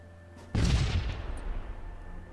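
A grenade blast in the Fallout Equestria Remains game bursts out suddenly as a single loud, close boom, then rumbles and fades over the next two seconds.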